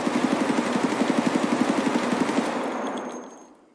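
Automatic weapon fire in the Escape From Tarkov video game, a fast steady burst of evenly spaced shots lasting over two seconds before the sound fades out with a lingering tail.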